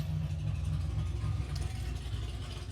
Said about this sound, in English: An obnoxiously loud motorcycle.